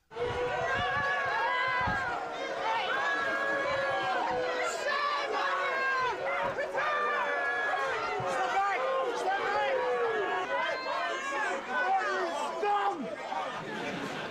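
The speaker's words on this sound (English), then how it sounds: "Here's some raw footage capturing the strong reaction of the crowd as she left" Crowd of local residents near Grenfell Tower shouting and jeering loudly as Theresa May leaves, many overlapping raised voices in a continuous, agitated clamour.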